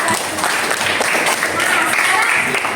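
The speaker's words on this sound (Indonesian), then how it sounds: "Oke, tepuk tangan untuk kalian" Children in a classroom clapping together on a teacher's cue, a brief burst of dense, fairly loud clapping lasting a few seconds with some voices mixed in.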